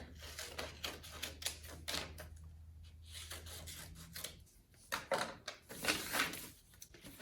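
Paper being cut down to size for an ink transfer craft, probably with scissors: a close, steady series of crisp snipping and rustling strokes with short pauses, and no talking.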